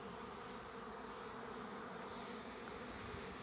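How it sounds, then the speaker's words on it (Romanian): Honeybees buzz steadily around the entrance of a hive, a dense continuous drone of many wings close by with no talking over it. "Deci albina urcă pe stup, dar zboară imediat"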